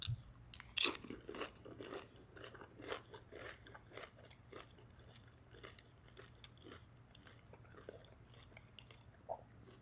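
Someone chewing a bite of a Subway steak footlong nachos sub with rubbery steak: close, quiet crunching and wet mastication in an irregular rhythm, alone without talk.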